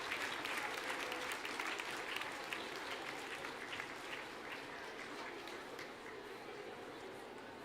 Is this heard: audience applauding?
yes